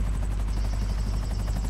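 A helicopter in Grand Theft Auto V thrums steadily nearby, its rotor producing a continuous rapid chopping pulse with no talk over it.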